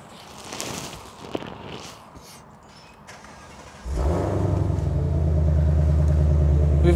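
A 2020 Ford Mustang Shelby GT500 sits quiet with small handling noises, then the engine fires and settles into a deep, loud, steady idle rumble.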